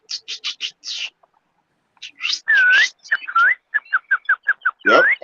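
A human whistle gives the Crip gang crib call, a run of sharp rising and falling chirps repeated in quick bursts, with a short pause and then more trilled notes, loud and close.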